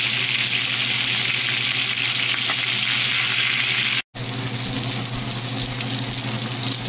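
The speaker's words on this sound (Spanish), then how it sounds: "ahora estamos dorando el otro lado de los muslos" Chicken thighs brown in rendered bacon fat for coq au vin, a loud, steady sizzle and spatter running continuously, broken only by a brief cut of silence partway through.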